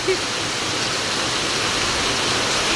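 Rain pours steadily over a farmyard shed where a vehicle is parked, a dense, even hiss that stays at a constant level from start to finish with no voices.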